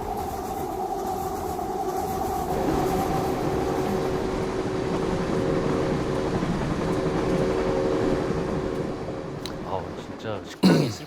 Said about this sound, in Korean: 기차 온다. 기차 오네요.